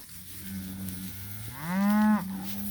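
A low cow moo rises into a louder, drawn-out bellow, heard close and clear with no talking.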